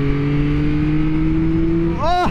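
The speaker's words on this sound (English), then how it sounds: "if I just turn the throttle a little bit, I get a lot of response from the engine, right?" A 2023 Yamaha MT-09 SP motorcycle engine idles steadily and loud. At the very end the throttle is blipped and it revs up sharply.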